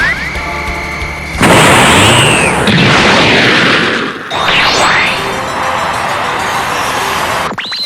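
A loud, sustained boom from a missile test launch explosion in a North Korea–themed parody, erupting abruptly after a quieter stretch and rumbling on with a second surge midway before cutting off.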